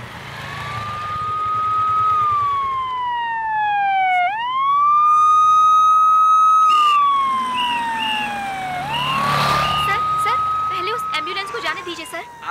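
An ambulance siren wails loud and close, its pitch sweeping down and rising again in long cycles, with a faint murmur of talk beneath it.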